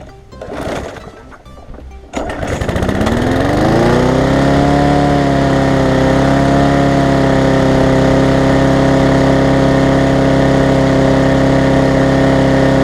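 A push lawn mower engine sputters, catches around two seconds in and settles into a loud, steady close-up drone after its carburetor was cleaned and refastened, with no talk over it.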